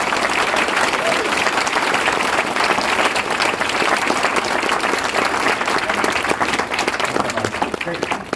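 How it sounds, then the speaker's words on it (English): Audience applause at a DigiPen talk by Kerry Davis, dense and steady for the whole stretch with no break or fade. "After we give Kerry a big round of applause."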